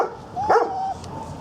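A small dog lets out a single short bark that rises into a brief whimpering yip, close by, with faint outdoor background and no talking.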